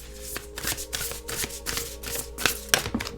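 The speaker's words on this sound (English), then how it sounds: "let me shuffle this one too." A deck of cards is shuffled close up, repeated riffling bursts in a steady rhythm of about a dozen quick strokes, with no talk over them.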